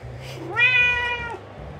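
A yellow cat gives a single clear meow, rising then falling over about a second, close and distinct against a low background hum.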